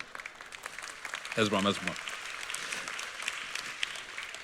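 An audience at a religious sermon applauding, a diffuse patter of clapping throughout while someone speaks over it.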